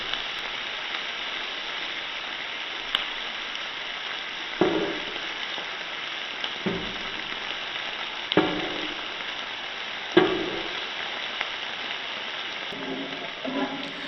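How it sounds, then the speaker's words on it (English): Green chilies sautéing in a pan on medium heat while making a boneless mutton roast: a steady, close hiss of sizzling oil, broken by a few soft stirring knocks and scrapes. "Now add green chilies 4 according to your spice levels. Saute for 2 minutes on medium heat."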